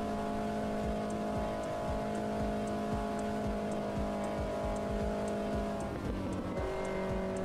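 A race car engine in the sim racing game AutoMobilista 2 drones steadily at high revs, its tone shifting as gears change, with faint tire noise and a continuous, close, game-like engine hum.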